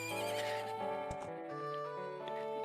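Epona, the horse in Zelda: Majora's Mask 3D, lets out a loud, close, bright whinny with harmonic, wavering tones in game audio, with no talking.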